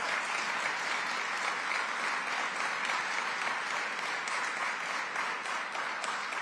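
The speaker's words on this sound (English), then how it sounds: "Let's give our mayor a round of applause." A crowd at a rally applauds the mayor: steady, dense clapping that continues evenly at a distance for the whole stretch, with no voices over it.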